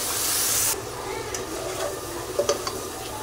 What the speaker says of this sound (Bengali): এভাবে এই তেলের মশলার মাঝে এটাকে একটু নেড়ে চেড়ে, দেখতেই পাচ্ছেন, কষিয়ে নিচ্ছি